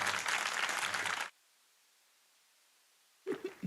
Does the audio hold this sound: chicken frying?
no